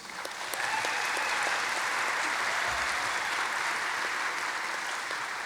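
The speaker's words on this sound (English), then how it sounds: "can we get another round of applause for the incredible sugarcane mummers?" An audience at an anniversary gala in Queensland gives a steady round of applause, a dense, even clatter of many hands clapping for several seconds at a moderate distance, with no talking over it.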